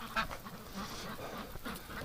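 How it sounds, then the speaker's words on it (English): Ducks being let out through a gate on a winter morning, a busy cluster of quacking and honking calls close by, steady throughout the short stretch with no talk. "Alright, let's let these ducks out."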